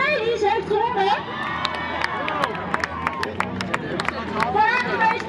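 Spectators cheer and shout together after a dragon boat race at a King's Day event in Assen, with scattered sharp claps and excited children's voices. An announcer talks over the lively crowd.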